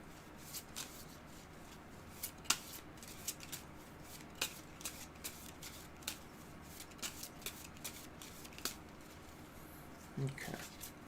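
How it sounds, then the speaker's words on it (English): A Marvel Champions encounter deck is shuffled in a quiet room, with soft, irregular card riffles and taps spread across the clip, plus a faint thump near the end. "I'm going to give it a quick shuffle."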